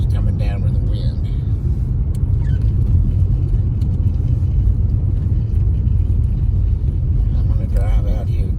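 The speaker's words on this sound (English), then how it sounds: "I'm going to drive out here just to where this slope is and turn around." A car drives slowly through snow during a winter storm, a steady low rumble and road noise heard from inside the vehicle, with a voice speaking briefly.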